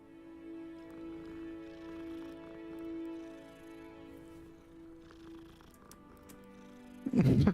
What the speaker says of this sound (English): Nice little kitty.